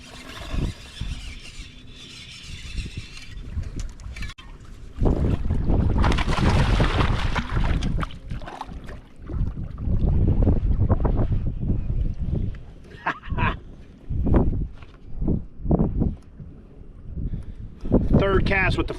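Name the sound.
wind blowing over water while fishing from a boat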